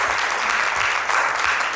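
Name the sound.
applause for the hosts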